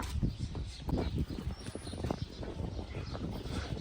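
Hooves clip-clop on the ground as a mare moves with her month-old foal on a farm. The uneven, fairly faint steps sit over outdoor background noise.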